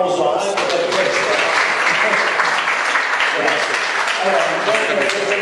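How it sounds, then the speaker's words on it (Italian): An audience at a conference on a Sicilian folk song applauds a conservatory jazz-singing student with steady, loud clapping from start to finish and no pause. "Allora facciamo un applauso anche per questo."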